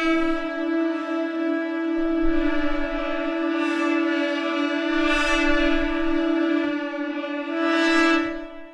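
A French horn section sustains a dense, held stop cluster split from a brass sample library, a loud, steady brassy chord that swells gently in a few places and then releases near the end.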